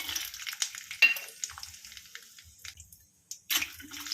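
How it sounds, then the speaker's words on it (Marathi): Peanuts dropped into two spoons of hot oil in a home kitchen pan, crackling and sizzling in soft bursts with small clinks, a brief quiet gap, then a fresh crackle near the end. "सर्वात प्रथम आपल्याला शेंगदाणे टाकायचे आहेत।"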